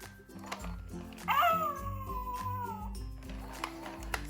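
A 2004 FurReal Friends Scamps toy puppy lets out a single electronic howl lasting over a second, rising then sliding down, quiet amid a background of steady music.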